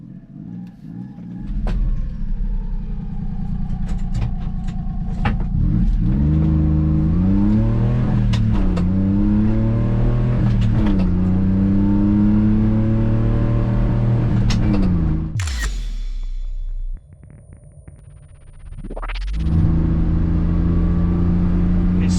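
A Ssangyong Actyon 4x4 car engine accelerates hard from inside the cabin, revving up through rising gear pulls with a loud steady drone, then a gear change and a brief drop before climbing again.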